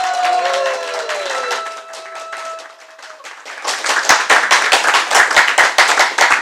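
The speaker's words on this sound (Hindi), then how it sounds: "जोरदार तालियां अपने प्रोफेशन के लिए।" Seminar audience at an FPRT professional event in India bursting into loud applause, dense clapping that swells after a few seconds of faint tonal sound and continues strongly to the end.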